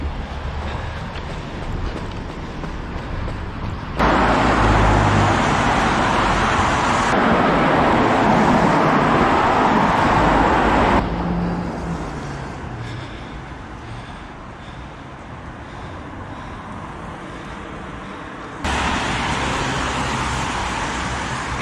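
Steady traffic noise roars along Wolverhampton Road as it runs down toward the motorway, swelling loudly as vehicles pass close, easing to a lower wash, then rising again, with wind buffeting the microphone throughout.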